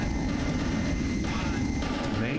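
Enemy aircraft in the mecha combat game Armored Core: Nexus, a steady, loud engine roar holding for a few seconds with a broad low rumble and a faint rising whine near the end.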